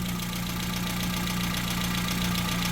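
A car engine idles on gas fuel (propane or methane), running steadily with an even mid-pitched hum and faint knocking texture throughout, close up, with no talking.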